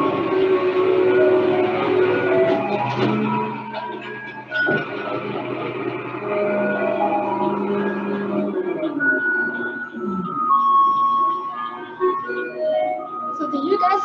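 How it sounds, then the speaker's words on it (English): Taiwanese garbage truck playing its tinkling melody through a loudspeaker, a steady electronic tune of bright sustained notes carrying on continuously for the whole stretch. "that music is the garbage truck music"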